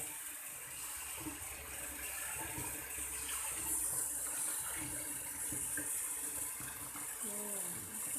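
Running water rinses wild blackberries under a cold flow in a sink, a steady splashing wash that carries on throughout, with faint voices underneath.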